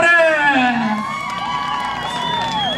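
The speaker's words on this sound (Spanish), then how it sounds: "¡Regálenle el aplauso!" Crowd at a jaripeo rodeo cheering and whooping loudly, a dense burst of excited voices that fades slightly but keeps going through the moment, with a few shouted calls standing out.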